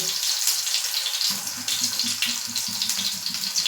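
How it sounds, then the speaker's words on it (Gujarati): Tomatoes placed in hot oil in a pan sizzle with a dense, steady hiss, close up, with a faint low hum underneath. "અને હવે તેલ પણ ગરમ થઈ ગયું છે તો આપણે આ રીતે ટામેટાં છે તેને આ રીતે ઊંધા તેલમાં રાખી લઈએ"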